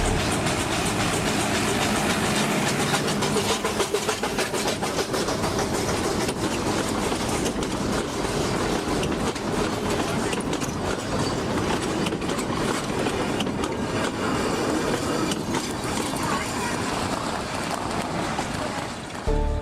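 A train running on rails in South India, played back from a screen, gives a continuous rumble and rhythmic clickety-clack of wheels throughout, loud and steady.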